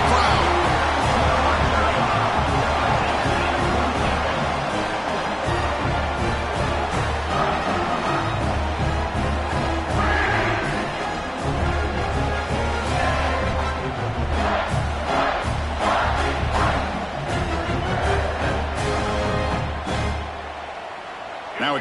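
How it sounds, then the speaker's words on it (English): A large stadium crowd at a championship football game roars and cheers continuously, with a low rumble and a dense wash of voices throughout. "Listen to the crowd."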